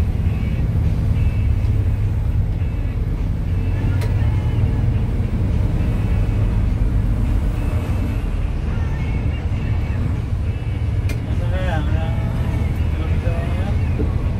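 Dense, congested road traffic near San Pablo City with cars counterflowing, a steady loud rumble of idling and crawling engines and truck noise close by, with people talking over it and a brief high squeal near the end.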